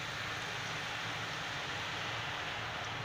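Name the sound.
boondi batter dropping and frying in hot oil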